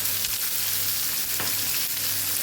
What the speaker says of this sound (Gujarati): સરસ આપણે સાતળી લેવાનું છે